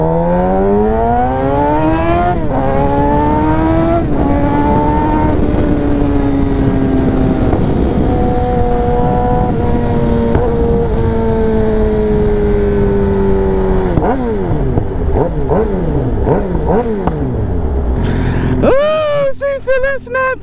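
Suzuki GSX-R 750 motorcycle ridden on the road, engine loud and close throughout, revving up through the gears with rising and falling pitch and shifts, someone talking now and then over the ride.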